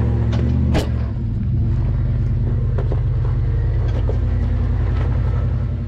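A Jeep with an automatic transmission climbs technical off-road terrain, its engine a steady low rumble throughout with occasional knocks and clunks from the drivetrain and rocks, close and continuous.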